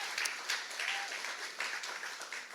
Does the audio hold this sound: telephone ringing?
no